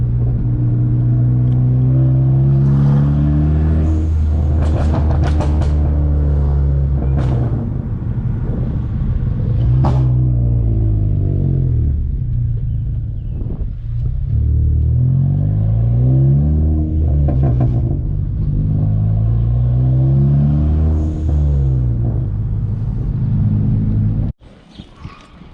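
A big-turbo car on a stock motor accelerating through the gears in hot weather, kept out of boost, its engine note rising in repeated sweeps with brief dips at shifts, loud and close, before cutting off near the end.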